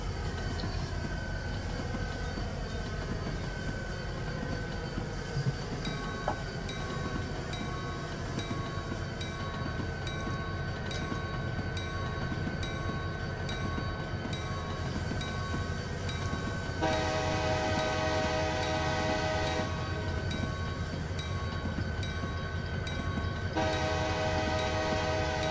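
B&O train rolling into Viaduct Junction in Train Simulator 2021: a steady heavy rumble of rail wheels and engine drone, with long sustained horn blasts sounding over it partway through.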